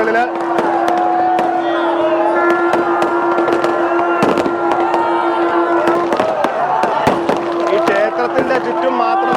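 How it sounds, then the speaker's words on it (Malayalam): Firecrackers burst in quick sharp cracks over a loud, dense crowd roar at the Karthigai Deepam festival at Thiruvannamalai, with a sustained tone and voices running beneath throughout. "മുഴുവൻ പടക്കം പൊട്ടിയത് ആരവങ്ങളെല്ലാമാണ്"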